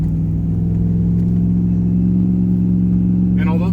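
A GMC truck engine labors as it tows a trailer uphill, a loud steady low rumble that continues throughout, with a voice talking over it near the end.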